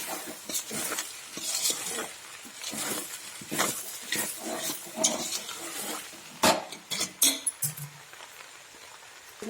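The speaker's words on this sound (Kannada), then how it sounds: "ಮಂಡಕ್ಕಿ ಹಾಕಿದ ನಂತರ ಒಂದು ಎರಡು ನಿಮಿಷ ಹಿಂಗೆ ತೊಳಸ್ಬೇಕು" Puffed rice upma being stirred in a pan: a spoon scrapes and clinks against the metal in uneven repeated strokes over a soft frying sizzle, close and fairly loud.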